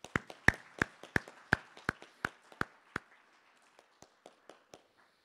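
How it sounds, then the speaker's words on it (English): Sparse clapping at the 2021 Miami University awards ceremony, about a dozen sharp, evenly spaced claps from very few hands that grow fainter and trail off after a pause, close and quiet with no voices. "So let's give them a round of applause"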